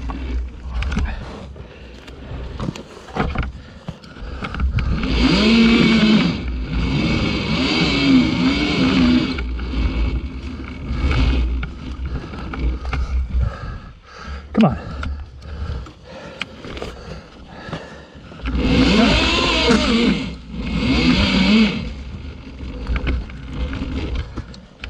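Electric TKO ECR Emoto Cake Kalk model car running at full throttle, a loud high motor whine with wind noise that surges in long bursts and drops away between passes, no talking.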